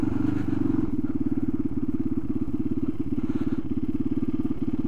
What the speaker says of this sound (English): We're on a Supermoto.